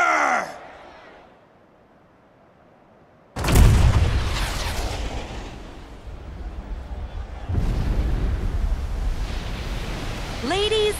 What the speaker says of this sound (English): with a single blast of Junon's famous cannon, Rufus Shinra has announced his arrival.